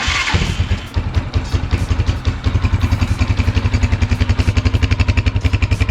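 An electric starter whirs briefly, then a 2021 250cc Rebel T Special Edition motorcycle engine with a stock silent exhaust catches and settles into a loud, close, rapid rhythmic putter.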